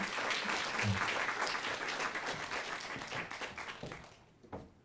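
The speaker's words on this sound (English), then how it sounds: "We can give them a round of applause." A round of applause from the audience at a music and wellness event, steady clapping that gradually thins and fades toward the end, with a final few isolated claps.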